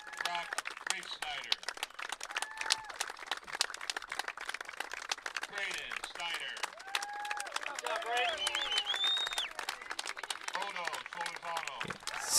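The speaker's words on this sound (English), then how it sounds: "Otto getting a big round of applause" A crowd at a high school baseball regional championship claps and applauds in a dense, continuous patter, with cheering voices mixed in.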